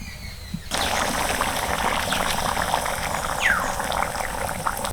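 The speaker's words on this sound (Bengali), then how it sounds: "আরও একটু জল দিয়ে দিচ্ছি এটাকে আমি তিন থেকে চার মিনিট মতো ফুটিয়ে নেবো ভালোভাবে" Water goes into a spinach and soybean gravy, which then bubbles and simmers in the pan. It starts with a sudden pour and settles into a steady, close liquid hiss with faint bubbling, with no talking.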